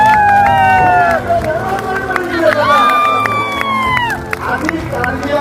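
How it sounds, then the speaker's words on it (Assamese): A crowd at a political rally in Karbi Anglong, Assam, cheers and shouts loudly, with shrill whistles rising and falling over the din, sustained and close for the whole stretch. "এটা হাত চাপৰি মাৰিব"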